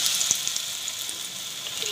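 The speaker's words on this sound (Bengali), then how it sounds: "একদম আস্তে স্টিমে দিয়ে সামান্য এটাকে ভাজতে হবে, যাতে এটা ভালো করে ভেতর থেকে হয়ে যায়।" Chicken pieces frying slowly in a pan for chili chicken, giving a steady, close hiss of sizzling oil that runs evenly throughout with faint small crackles.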